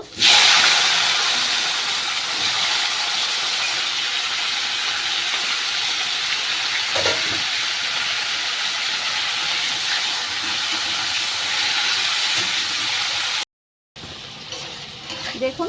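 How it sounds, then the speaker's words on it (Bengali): Salted cauliflower florets fry in hot oil with a steady, loud broadband sizzle that runs almost unbroken, pausing briefly near the end before resuming more quietly. "আমি ফুলকপিগুলোকে লবণ মেখে রেখেছিলাম ফুলকপিগুলো ভেজে নেব"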